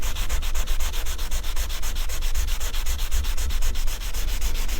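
Wet-and-dry paper of about 400 grit rubbing along a Suzuki GT750 motorcycle fork tube, a steady, close, rhythmic back-and-forth rasp of quick even strokes with no voices.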